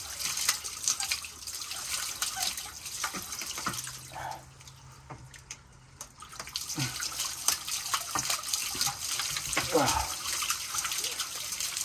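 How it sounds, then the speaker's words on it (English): Water begins flowing again through clogged farm pipes, a faint gurgling trickle with drips and splashes, heard up close alongside handling noises and scattered clicks. "Starting to get some water flow again."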